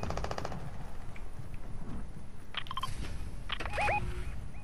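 A short burst of rapid automatic gunfire from a henchman in Fortnite opens the clip, followed by scattered fainter game effects and a couple of bright chimes, with no talk.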